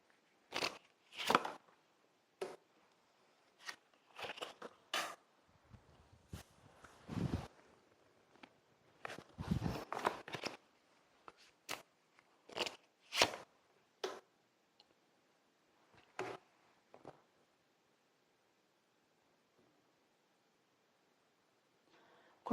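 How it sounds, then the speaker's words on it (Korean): Tarot cards are shuffled by hand, giving irregular crisp clicks and riffling flutters in scattered bursts, close and quiet against near silence, with no talk. "일단 카드 섞고 있고 뒷면 먼저 보여줄게."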